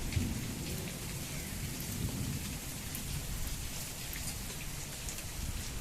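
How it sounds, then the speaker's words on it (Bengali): Steady rain pattering on surfaces, a dense continuous hiss with a faint low rumble beneath, no voices. "বৃষ্টিটা হেভি সুন্দর বোঝা যাচ্ছে"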